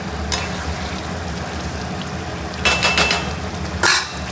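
Fish frying in mustard oil in a wok, with a steady low sizzle throughout and two short bursts of scraping and stirring near the end.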